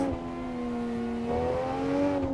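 Cars drag race in the Assetto Corsa driving game, with a steady, buzzy engine drone holding a strong tone that rises slightly in pitch as the cars accelerate together.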